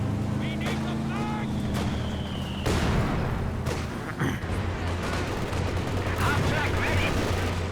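Gunfire in the Company of Heroes 2 strategy video game: a mix of machine-gun bursts, sharp cracks and heavier thumps over a rumbling vehicle engine, with a commentator talking over the battle.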